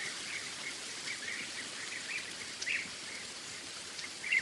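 Steady, soft patter of rain with a few faint bird calls in the background, quiet and continuous throughout.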